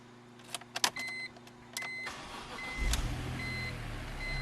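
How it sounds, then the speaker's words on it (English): The engine of a 2003 BMW M3 SMG coupe is started after a few clicks and electrical whirs, with a brief cranking burst followed by a settled idle hum close by. "What I'm going to do is I'm going to start it up for you"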